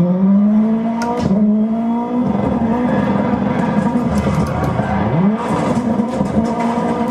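A racing car engine in a driving video game climbs through its revs in loud, rising sweeps, with brief drops between gears and a short squeal near the end, and no voices.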